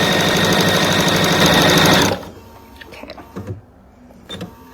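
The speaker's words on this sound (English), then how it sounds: "I love how fast the Bernina is and how smooth that is" A Bernina sewing machine runs a fast, smooth straight stitch, loud and steady for about two seconds before stopping abruptly, followed by faint handling noises.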